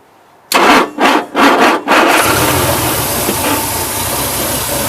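A cold Triumph TR250 engine with triple Weber DCOE 40 carburettors cranks in a few loud surging bursts, then catches and settles into a steady, rough, close idle with no voices.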